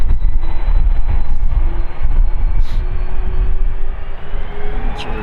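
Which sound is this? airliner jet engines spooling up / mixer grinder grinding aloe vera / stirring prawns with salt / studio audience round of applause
airliner jet engines spooling up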